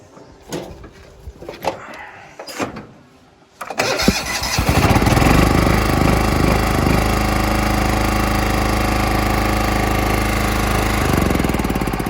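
A 1988 John Deere 175 Hydro lawn tractor, fitted with a new starter, cranks in a few short bursts and then catches, settling into a loud, steady small-engine run close by.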